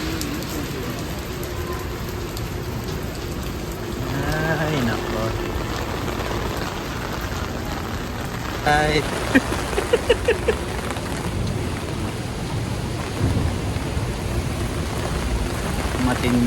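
Steady heavy rain pours and patters throughout in Manhattan, New York, with people briefly talking and exclaiming over the downpour.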